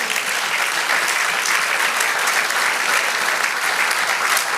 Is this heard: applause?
yes